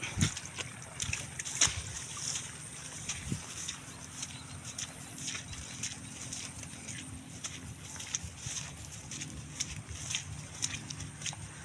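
Rain falls steadily on a rice field, a soft continuous patter and hiss with occasional splashing drops, faint and diffuse in the open air.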